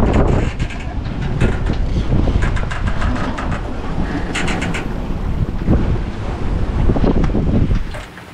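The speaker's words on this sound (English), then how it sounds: "Wind from behind and wind from the side." Steady, loud rush of wind at sea aboard a sailboat, buffeting the microphone with broadband roar and surging water noise, continuous throughout before dropping off at the end.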